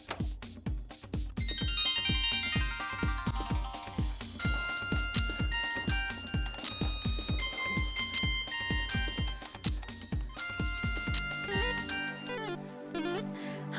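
A phone ringtone for an incoming call from Australia plays a bright, repeating electronic melody over a steady rhythmic beat for over ten seconds, fairly loud and alone, with no talking.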